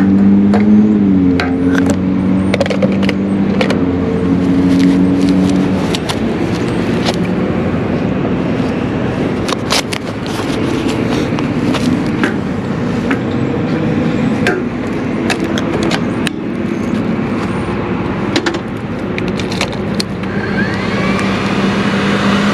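Kawasaki Ninja ZX-4RR motorcycle with a full exhaust and retune, accelerating toward top speed: a loud, continuous high-revving engine drone, close and steady, mixed with heavy wind rush and occasional rising gear pulls.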